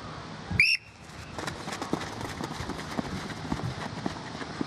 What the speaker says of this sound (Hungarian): Sípszóra megyek, nyugi van.